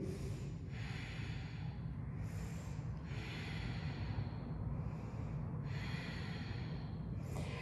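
Slow, rhythmic breaths during a vinyasa yoga flow, each audible exhale rising and falling every couple of seconds, close and fairly soft over a low background rumble.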